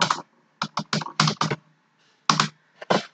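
Computer keyboard typing in a few quick bursts of close, crisp key clicks with short pauses, ending with further taps as Enter is pressed; no voices.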